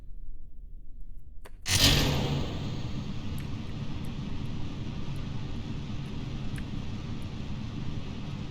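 A rocket engine in the game Kerbal Space Program kicks in with a sudden blast, then settles into a steady, loud roaring rumble that holds for several seconds, with faint soft clicks above it.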